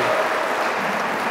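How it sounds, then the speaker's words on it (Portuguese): A church congregation applauds during a service, a steady wash of clapping that holds evenly for the whole moment without a clear break. "Aplauda o Senhor."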